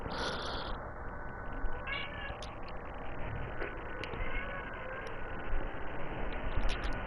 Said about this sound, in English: You gotta let my cat out.